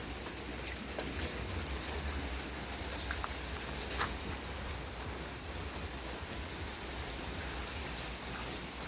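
Steady rain falls outside a house, a dense even hiss of drops with occasional louder patters, constant and moderately loud with no talking.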